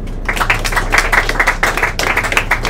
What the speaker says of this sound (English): a massive round of applause for Leo tonight